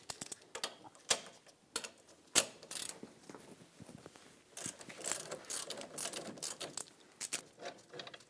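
A ratchet clicks in quick, uneven bursts as it loosens the brake caliper bracket bolts on a Toyota Matrix, a close, fairly quiet ticking broken by a few sharper knocks.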